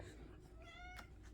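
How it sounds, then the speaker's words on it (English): A cat gives a single close, rising meow lasting under a second, with a faint low background hum around it. "cat is meowing at me, which means I should probably get her some dinner."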